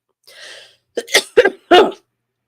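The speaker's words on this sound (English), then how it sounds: "I'm starting to cough." A soft breathy sound followed by three sharp, forceful coughs in quick succession, close and fairly loud, with no talking.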